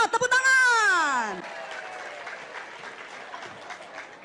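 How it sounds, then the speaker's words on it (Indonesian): A crowd applauds at a gathering after a volunteer leader is introduced, a loud drawn-out voice at the start followed by scattered, softer clapping. "Tepuk tangan."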